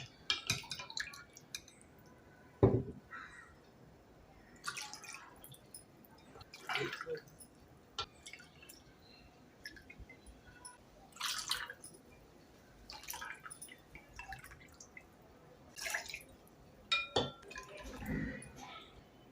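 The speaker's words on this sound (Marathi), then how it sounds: "आईस क्यूब आता आपण ग्लासमध्ये सर्व करूया" Malvani solkadhi is poured into a glass with ice cubes. Soft splashes, drips and the clink of ice against glass come in short, sparse bursts close by, with quiet pauses between them.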